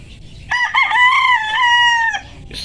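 A broodcock rooster in a backyard breeding yard gives one loud, close crow, a drawn-out harmonic call of about two seconds with a brief break near the start, heard alone.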